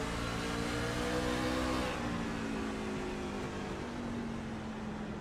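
On-board race truck engine at North Wilkesboro, a steady loud drone with a shifting pitch and one clear change partway through, heard alone without talk.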